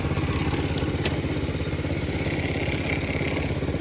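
Sato ride-on lawn mower with a 60 cm cutting deck, its small engine running steadily in first gear with a close, rapid, even putter and light mechanical clatter throughout, no voices.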